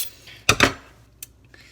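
Small knife cutting a carrot, two quick close crunchy chops in succession followed by a lighter single tap.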